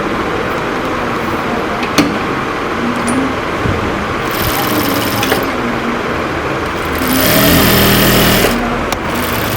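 Sewing machine stitching doubled fabric, a steady mechanical whir with rapid needle chatter that grows louder in bursts around the middle and near the end.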